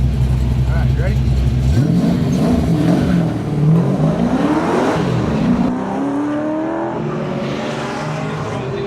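A 1971 full-bumper Camaro engine rumbles and revs hard while autocrossing at Bowtie Nationals, Lucas Oil Indianapolis Raceway Park, rising and falling through gear changes, loud and close from inside the car, with people talking over it.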